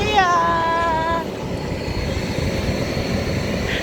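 Steady broadband roar of an airplane, close and loud throughout, with a brief tonal whine over the first second.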